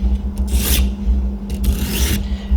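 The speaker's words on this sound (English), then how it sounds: "I always finish with just a few cutting strokes on either side" Knife being sharpened on an Edge Pro Apex, a Santoku blade drawn across the stone in two close, distinct rasping cutting strokes, loud and alone over a steady low hum.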